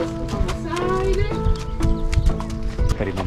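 Horses' hooves clip-clop steadily and a horse neighs, heard up close on an outdoor horse outing in Oaxaca, with a busy, full-bodied background throughout.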